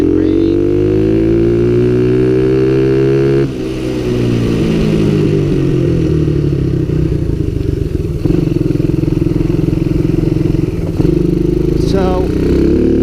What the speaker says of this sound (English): It's mostly the engine slowing me down.